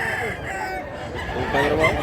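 A two-year-old bullstag gamecock with pumpkin colouring, big and tall, crows once, a loud drawn-out call close by, with a few clucks and faint voices around it.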